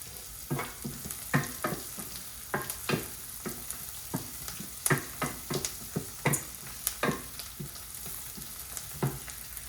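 Carom seeds (ajwain) crackling in hot oil for Gujarati-style aloo poha, a faint steady sizzle broken by many sharp popping crackles.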